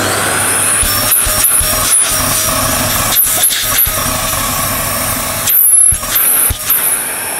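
A Zucco Vacuum 2 bagless egg-shaped vacuum cleaner runs with a steady whine and hiss, repeatedly interrupted by sharp drops and surges as the suction is blocked and released.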